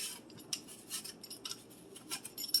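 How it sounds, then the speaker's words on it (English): An apple being peeled with a hand peeler in a home kitchen, giving soft, quiet scraping strokes in an irregular rhythm with small metallic clicks between them, close by and with no talking. "I'm going to peel the first apple"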